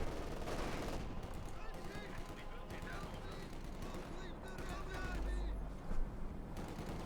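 Machine gun fire in Company of Heroes 2, rattling bursts under a dense battle soundscape while a commentator talks throughout.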